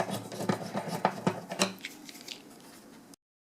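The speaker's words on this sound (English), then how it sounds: "there's a couple of screws on each side of the pickup. Phillips screws." Phillips screws being worked out of an acoustic guitar pickup on a Takamine guitar, giving close, small rhythmic scraping and clicking of the screwdriver that fades before stopping.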